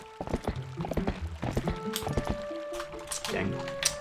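Horse hooves clip-clop in Zelda: Twilight Princess HD amid busy game effects, a quick irregular run of hoof hits under layered chimes and tones, fairly close and moderately loud.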